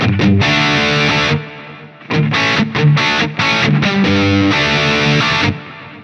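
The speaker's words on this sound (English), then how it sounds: "And then if we add in the delay and reverb," Distorted electric guitar in a 1990s style tone on a Quad Cortex, with delay and reverb, plays chopped chords and a short riff, notes ringing on and trailing off into a faint echoing tail between phrases.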